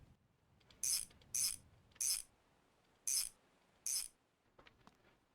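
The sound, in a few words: bolts being tightened on drive shaft and gearbox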